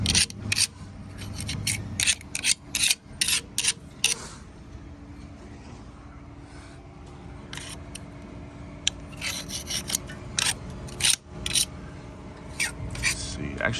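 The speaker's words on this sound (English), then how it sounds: "Might have to build that up and then sand it back down." Blade metal on a mobile shear is sanded down, giving close, harsh scraping strokes in uneven bursts, with some quieter stretches between them.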